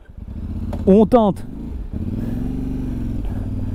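A Voge DS800X Rally adventure motorcycle engine rumbles steadily throughout, with two sharp revs early on and a person speaking briefly over the drone.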